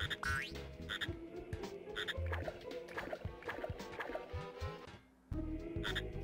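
Frog croaking in Glover 64, repeated cartoonish croaks over busy game music and effects, moderately loud, with a brief dropout near the end.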